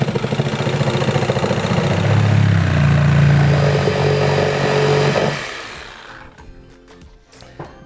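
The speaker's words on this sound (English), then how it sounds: "I'm lazy, so I'm going to use the Sawzall." A Sawzall reciprocating saw cuts a hole for an outlet box in a wall, giving a steady, loud buzzing drone for about five seconds before stopping, leaving quiet handling sounds.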